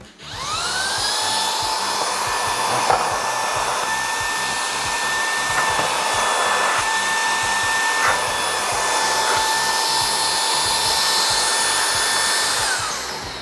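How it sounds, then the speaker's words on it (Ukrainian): A DeWALT DWH161D1 cordless vacuum cleaner whines steadily at high pitch, loud and continuous for the whole stretch, with a slight rise as it spins up at the start. "Вмикаємо пилосос."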